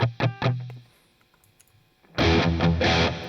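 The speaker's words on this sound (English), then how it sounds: "As you can hear right now, I've got the reverb sound, which is basically just the upper frequencies" An electric guitar runs through free VST plugins with a treble-only reverb effect, starting with a few sharp plucked hits, then a near-silent gap before a loud, bright, distorted strummed burst rings out.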